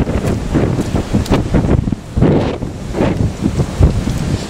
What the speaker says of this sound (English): you can hear me, it's windy